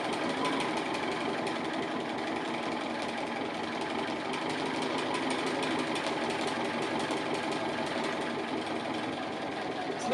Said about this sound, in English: I'm just stitching on the applique, just close to the edge, but I'm free motion stitching